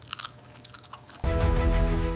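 Crunchy chocolate bitten and chewed close to the mic: a few light crackles, then a loud, dense crunching that fills the second half.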